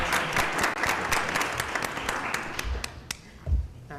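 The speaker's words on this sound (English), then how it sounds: "Now we can clap." Audience applauding at a school board meeting after a motion carries, a short burst of scattered hand claps from a modest group, fairly close, with a couple of louder thumps near the end.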